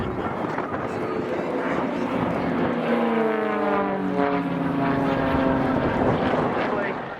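Propeller aircraft from an aerobatic display team fly in toward the crowd for a break at an air show, a loud sustained engine drone with a pitch that sweeps downward as they pass. An announcer talks over it.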